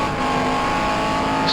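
Shelby Cobra 260 race car at Goodwood in rFactor 2, its engine holding a steady loud drone at sustained revs with no breaks or gear changes across the moment.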